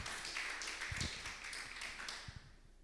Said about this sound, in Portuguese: Pode aplaudir o Senhor por esse tema.